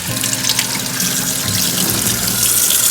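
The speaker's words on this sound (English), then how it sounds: "So I'm going to pour off the vinegar water here" Vinegar water pours and splashes continuously into a colander, a loud, steady rush close by, like liquid running into a sink.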